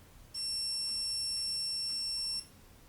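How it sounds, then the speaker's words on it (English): A Viomi V-SK152A 1.5-litre smart kettle gives a single sustained high electronic beep lasting about two seconds, clear and alone over faint room hiss. "Beep."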